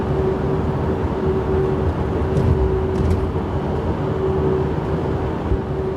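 Steady broadband wind roar from a roof-mounted ladder on a Volkswagen Caddy Maxi 2.0 TDI at speed, a constant rushing hiss over low road rumble with a faint tonal whine, no voices.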